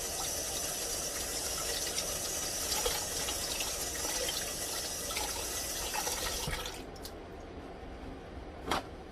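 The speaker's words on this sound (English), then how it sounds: "let me wash my hands" A kitchen tap runs in a steady close rush while someone washes their hands, then the flow cuts off, leaving a few drips and small splashes.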